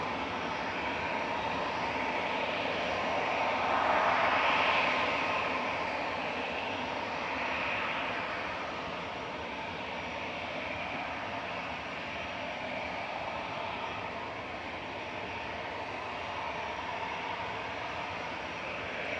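An airliner at Manchester Airport, one that suffered a bird strike, sends a sustained engine roar from a distance that swells for a few seconds and then settles into a steady, fainter drone, with no talking.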